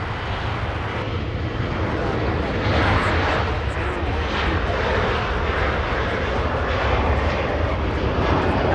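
A Southwest Airlines jet departs Los Angeles International Airport bound for St. Louis, its broad steady engine roar filling the scene while a voice talks over it.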